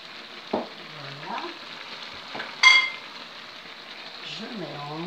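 Chicken pieces with cumin and spices sizzle in a pan while being stirred, a steady frying hiss broken by a couple of sharper scrapes and clinks of the utensil.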